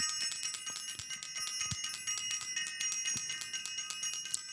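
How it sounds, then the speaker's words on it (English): Small bell rung in a class setting, bright metallic rings repeating steadily with a sustained shimmer, fairly faint and alone without talk. "I want to ring the bell"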